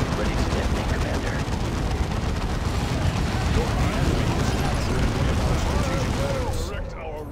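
Dense, continuous battle noise from Dawn of War II: Chaos Rising as explosives are detonated during a capital defense, a loud sustained roar of blasts and gunfire that fades slightly near the end, with voices mixed in.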